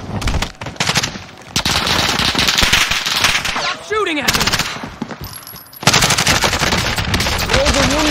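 Rapid bursts of automatic gunfire in a multiplayer video game crackle loudly and almost nonstop, with brief lulls, while a voice calls out now and then over the shooting.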